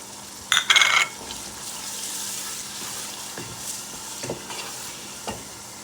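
Whole spices and mutton fry in a pot for yakhni pulao, giving a steady low sizzle, with a brief clatter of stirring near the start and a few soft knocks later.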